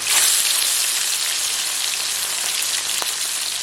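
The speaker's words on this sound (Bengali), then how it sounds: "আমার তেলটা গরম হয়ে গেছে, তার জন্য আমি এখন মাছটা ভেজে নেবো।" Kalbaush fish frying in hot oil, a steady, dense sizzle that holds loud and even from start to finish with faint crackles scattered through it and no voices.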